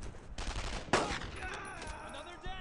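Automatic gunfire in the World War II video game Brothers in Arms: Road to Hill 30, with sustained bursts and a sharp loud shot near the middle, close and dense, alongside in-game voices.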